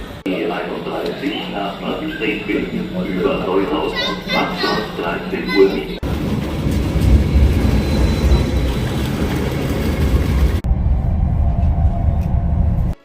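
Echoing ambience in a Nuremberg train station with voices and children chattering, followed by the steady rumble and rush of a train moving through.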